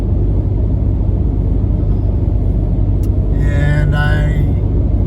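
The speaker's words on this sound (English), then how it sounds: "going 75 miles an hour in my Ford Raptor 2018" A 2018 Ford Raptor with a 3.5 twin-turbo V6 cruises at 75 mph, making a steady, loud cabin drone of road and engine rumble, with a faint whine rising briefly near the end.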